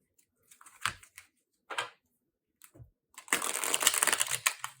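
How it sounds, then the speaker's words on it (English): A few soft rustles, then a steady, dense papery riffle of tarot cards being shuffled close by, with no talking. "Shuffle these cards."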